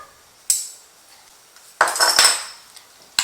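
Crushed fresh garlic is worked into a paste in a bowl for a roast leg of lamb, heard as a few sharp metallic clinks and a short burst of scraping, close and otherwise quiet.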